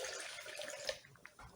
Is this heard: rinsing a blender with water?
yes